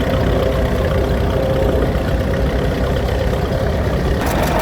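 Vintage tractors, among them a 1937 Fordson F, rumble past in a steam rally parade, a heavy, steady low engine drone close by with no talk over it.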